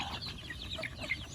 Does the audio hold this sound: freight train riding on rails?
no